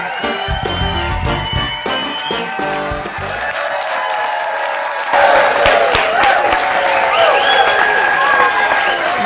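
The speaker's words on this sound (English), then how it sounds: "What a crowd, what a crowd." Studio audience at a St. Augustine talk show applauding and cheering for host Jorge Rivera, a dense, steady wash of clapping and whoops over music, swelling louder midway and continuing without pause.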